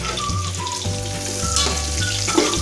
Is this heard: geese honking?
no